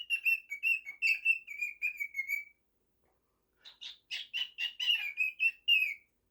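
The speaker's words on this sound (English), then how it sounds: "so we could enjoy the rest of the video without bird tweeting" An indoor pet bird tweets in two bursts of rapid, whistled chirps, close and clear, separated by a short silence.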